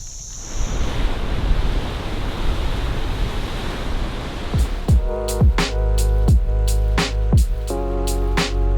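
Ocean waves surge into a rocky gorge at Point Lookout with a loud, rushing wash and wind noise, then a series of sharp, ringing repeated tones breaks in over the surf.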